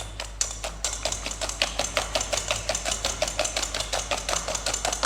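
Swiss roll cake batter whisked by hand in a mixing bowl set on a damp cloth: a steady, quick rhythm of tapping, swishing strokes repeats throughout over a low constant hum, with no talking.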